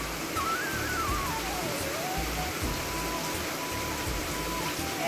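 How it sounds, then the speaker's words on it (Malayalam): Heavy rain falling on a dark, thundery Onam day, a loud, continuous hiss of downpour that fills the whole stretch with no break and no voices over it. "ആകെ ഇരുട്ടായി മഴ തുടങ്ങിയപ്പോ തന്നെ, നല്ല ഇടിയൊക്കെ ഉണ്ടായോണ്ട്"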